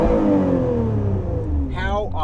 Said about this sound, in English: if I rev the car,